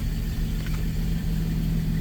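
A Pontiac G6 engine runs steadily after a coolant flush, giving a close, even idle hum with a low, constant drone and no talk.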